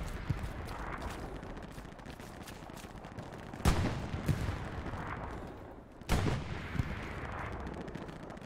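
Gunfire in the Hell Let Loose video game, with two sharp loud reports a few seconds apart over a busy background of distant battle noise and scattered shots.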